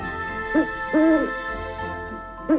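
An owl hoots several times in an audio bedtime story, soft tonal calls spaced irregularly, with one longer hoot in the middle and a quieter backdrop.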